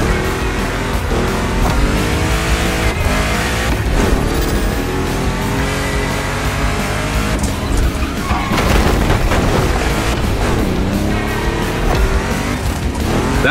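Car engine roaring with tires skidding and squealing as a street car drifts, handbrake pulled, through a Gymkhana time attack in The Crew Motorfest racing game, loud and continuous with no talking.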